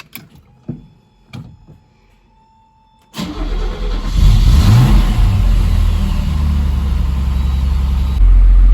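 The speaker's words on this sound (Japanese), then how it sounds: "エンジンを始動して点検していきます。" A Mercedes W113 engine cranks and catches after a few faint knocks, then settles into a loud, steady idle with a brief rev, heard up close and alone.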